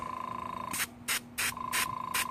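Short bursts of hissing spray, five quick puffs in a row, from a Badger 250 airbrush spraying leather dye, over the steady hum of a running compressor.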